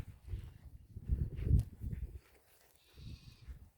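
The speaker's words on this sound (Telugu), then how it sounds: "మేక పిల్లలు" Baby goats on a farm plantation bleat in low, throaty calls, several short cries clustered together close by, then a pause before more faint bleating, with a little rustling and no talk.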